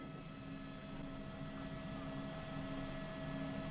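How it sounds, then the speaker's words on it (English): A police helicopter circling over a car chase gives a steady, fairly faint rotor and engine drone that holds throughout without a break. "the chopper got back on them"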